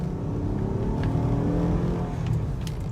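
A 2012 Honda Pilot accelerates during a test drive, heard from inside as a steady engine drone rising slightly in pitch over road noise, with no one talking.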